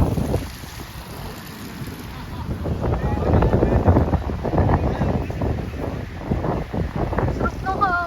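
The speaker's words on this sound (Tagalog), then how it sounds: "Sarap ng hangin." Mountain wind on Mt. Pulag's Akiki Trail buffets the microphone in a steady, rushing roar that swells in the middle, with water and faint voices in the background.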